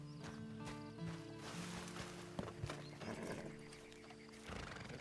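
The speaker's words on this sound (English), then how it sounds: "And you better get on this horse." Horse hooves clip-clopping in the video game Red Dead Online, quiet irregular steps with a neigh mixed in, set against a background of in-game music.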